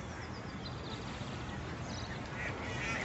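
Ducks quacking amid a dense, noisy outdoor wash, the calls faint and partly buried in the steady background.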